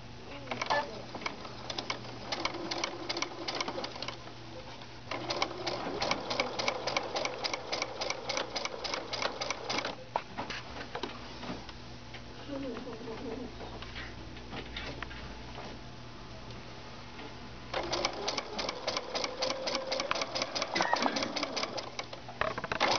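A domestic sewing machine runs a straight stitch in rapid rhythmic bursts of ticking, stopping and starting several times, with quiet pauses between runs and soft background sound underneath.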